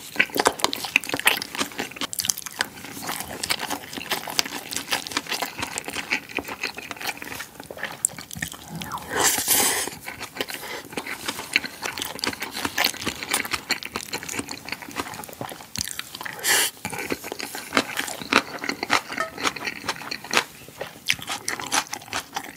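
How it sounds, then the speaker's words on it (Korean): Close, crisp crunching and wet chewing from a mukbang of marinated soft-boiled eggs and crunchy vegetables, repeating steadily with louder crunchy bites, no talking over it. "이게 채소를 꼭 넣어야 돼요 이렇게 아삭아삭 씹히는 게 완전 포인트네"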